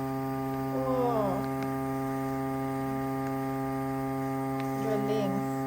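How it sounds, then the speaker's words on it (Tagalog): A vacuum sealer pulls the air out of a bag of dried fish with a steady, even humming drone that runs through the whole stretch, with brief voices in the background. "hinihigop niya, binabacuum niya"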